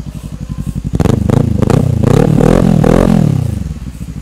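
Kawasaki Ninja 400 motorcycle exhaust through an aftermarket muffler, a rhythmic idle burble that swells into a deep, loud rev and falls back, close and alone.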